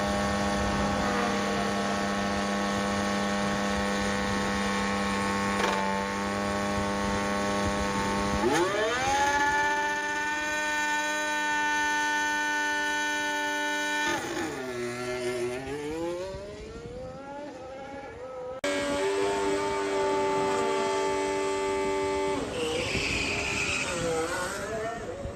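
Mercedes-powered 2026 Formula One car at preseason testing, its engine holding a steady buzzing note, then rising through sharp upshifts and dipping on lift-off as it passes, loud and continuous with no speech.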